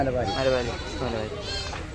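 Goats of a Karoli-Beetal cross bleat at a Sunday livestock market in Chattiparamba, Kerala, the cries wavering and repeated over a busy background with people talking.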